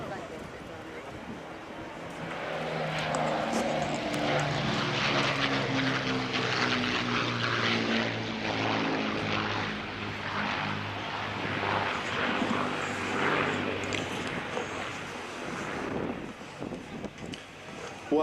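A propeller aircraft, reportedly a historic German airliner, flies past at the Duxford Flying Legends airshow. Its engine drone swells and fades across the pass under a commentator's voice.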